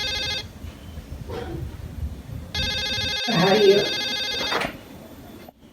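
A telephone rings in a home in two long bursts with a pause between, fairly loud and steady, while a voice speaks briefly near the middle.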